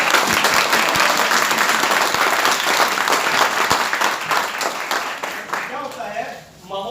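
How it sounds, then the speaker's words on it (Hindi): Indoor audience at a meeting clapping together in a loud, sustained burst of applause that fades near the end, with speech mixed in beneath the clapping. "या तो ताली जो बजाओ एक साथ बजाओ"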